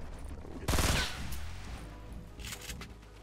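A sudden burst of rapid gunfire in a Fortnite battle royale match, loud and close, a dense volley lasting about a third of a second, then fading into softer game ambience with a few later faint shots.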